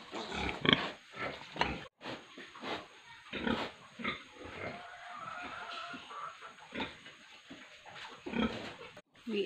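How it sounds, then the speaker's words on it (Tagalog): Several pigs grunt and snort close by on a farm, with irregular bursts of oinks and squeals overlapping one another throughout. "There's so many pig right here."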